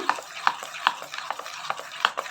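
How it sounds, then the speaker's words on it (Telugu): A spoon stirs a jaggery mixture as it dissolves, scraping the pan in a quick, regular rhythm of about two strokes per second, close and fairly soft, with no voices. "బెల్లం అంతా కరిగి మంచిగా మిక్స్ అయ్యేదాకా ఇది బాగా కలిపేసుకోవాలి"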